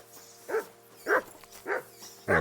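A dog in the video game Kingdom Come: Deliverance II barks four times in a steady rhythm, short, moderately close barks with quiet gaps between them and no talking.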